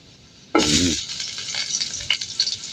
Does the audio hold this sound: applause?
no